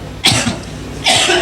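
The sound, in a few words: cough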